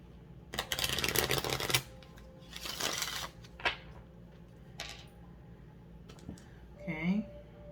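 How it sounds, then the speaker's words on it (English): Tarot cards being shuffled in several riffling bursts, a long one first and shorter ones after, fairly close, with a brief riffle near the end. "One last shuffle here"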